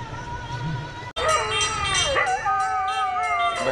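After a short break, a dog howls in long, wavering, drawn-out tones, loud and close, during an evening aarti in Ujjain, the howling carrying on steadily to the end.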